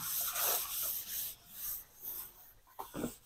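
Cloth rubbing wax and grease remover across an old Galant Hardtop car panel before priming, a soft, close, irregular swishing wipe in short strokes.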